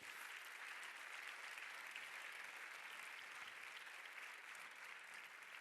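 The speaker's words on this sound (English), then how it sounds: "Please give them a big round of applause" Steady, dense applause from a large audience at the LUX Audience Award ceremony for European film, continuous and even throughout with no talk over it.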